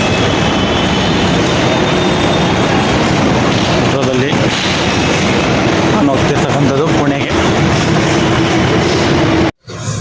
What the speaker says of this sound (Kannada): ನೋಡಿ ಮೆಟ್ರೋದಲ್ಲಿ ಹೋಗ್ತಾ ಇದ್ದೀನಿ.